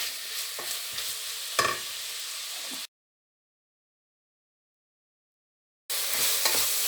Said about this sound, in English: we're going to saute this until the onions are a little bit see-through and a little bit softer